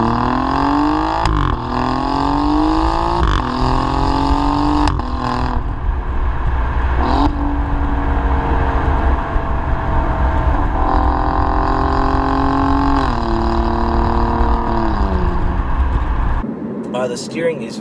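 An Alfa Romeo Giulia engine accelerates hard, its loud, close note climbing in pitch through several gear changes with brief dips between each rising pull.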